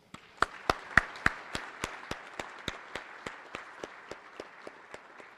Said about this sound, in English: please join me with a warm round of applause